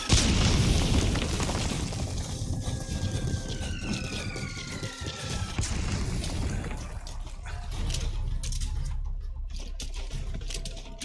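Video game mortar strikes land as deep, rumbling booms that roll continuously through the whole stretch, loud and heavy, with sharper pops and bursts scattered across the barrage and no talk.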